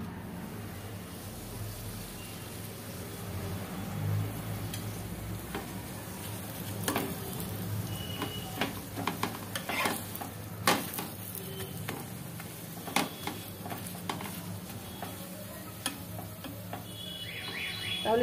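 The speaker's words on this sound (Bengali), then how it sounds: "এবার আমি একটা দুটো করে ভাজতে থাকবো।" Food frying a piece or two at a time in oil in a pan, a soft steady sizzle under scattered clicks and clatter of handling, fairly quiet throughout.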